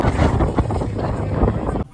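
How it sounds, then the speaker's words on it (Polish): Strong gusting wind buffets the microphone at a ski jumping venue in Zakopane, loud broadband rumble with gust swells throughout, cutting off abruptly near the end. "Wiatr jest naprawdę niesamowity."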